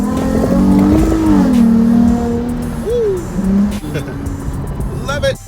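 Dodge Charger fitted with an add-on lip spoiler accelerating on a quick pull, engine tone rising and shifting steadily throughout, loud and close, with someone talking over it.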